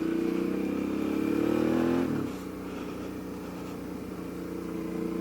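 Heavy adventure motorcycle ridden through tight suburban streets, engine droning steadily up close, then dropping in pitch as the throttle eases and holding a lower, even rumble.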